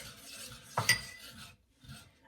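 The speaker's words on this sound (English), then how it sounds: "I'm going to use my whipper again to mix it together" A metal whisk scrapes and clinks against a bowl while mixing dry spices, including cumin and garlic, with a quick rasping burst and a later softer scrape, faint and close with no talk.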